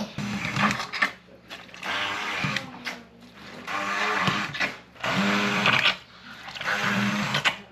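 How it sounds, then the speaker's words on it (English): An immersion blender purees cooked pumpkin in a farm kitchen, running in several loud whirring bursts of about a second or two each, separated by short pauses. "I am going to be blitzing this with my immersion blender"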